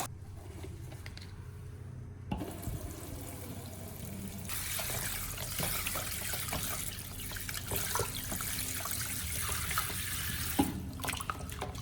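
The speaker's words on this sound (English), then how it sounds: "After soaking, rinse the cilantro thoroughly 1 to 2 more times." Cilantro is rinsed under running water, heard as a soft, continuous splashing and trickling that starts after a brief quiet moment, with small drips and handling noises and no talk.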